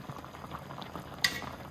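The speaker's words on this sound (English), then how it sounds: "This ramen noodle is gonna take about a couple of minutes to cook." Ramen noodles bubble in a pot of Korean military stew (budae jjigae), a soft steady simmering burble, quiet and close, with a single brief clink of a utensil partway through.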